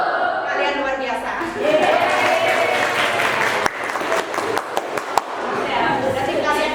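A school class claps hands together in counted patterns. The bursts are sharp and rhythmic, mixed with children's chatter, and the strongest claps come in the second half.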